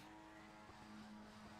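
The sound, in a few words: race car engines revving in racing video game Skip Barber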